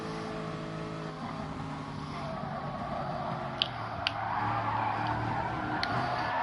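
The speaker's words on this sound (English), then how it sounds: "Lost the car there under braking." In Gran Turismo Sport, a race car's tires skid under braking during a Nations Cup race: a sustained engine drone with a squealing, scrubbing smear, plus a few sharp clicks.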